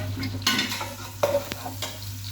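One large finely chopped onion fries in a pot for a short moment, with a steady sizzle and a few sharp scrapes and clinks from stirring.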